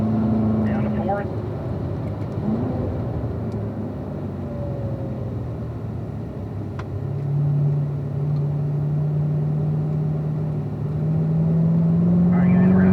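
A car engine on a race track drops a gear, its steady droning note shifting and rising again as revs build, heard continuously under a driving instructor's voice.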